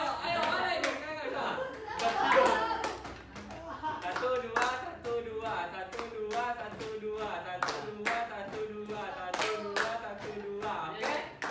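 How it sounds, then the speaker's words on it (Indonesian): Students in a classroom clap in unison, a steady series of sharp group claps with short pauses between beats, while a teacher's voice and some laughter carry on over the rhythm. "misalnya kalian tepuk dulu 2 kali"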